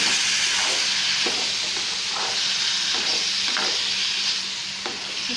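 Tomato pieces and drumsticks being stirred together in a frying pan for a Telugu-style curry, with a steady loud sizzle and periodic scraping stirs throughout, no talking.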